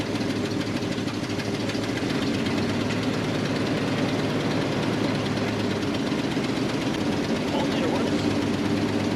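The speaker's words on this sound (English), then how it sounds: "That exhaust leak." Toyota 4Runner engine idling with an exhaust leak, a steady rough ticking rumble that holds constant and moderately loud throughout.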